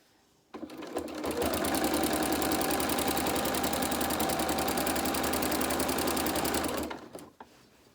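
A sewing machine stitches down the edge of a fabric advent calendar in one steady, fast, loud run of rapid needle clatter that starts and stops cleanly.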